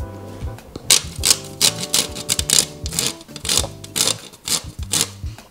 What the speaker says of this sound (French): Je vais venir râper maintenant la fève de tonka.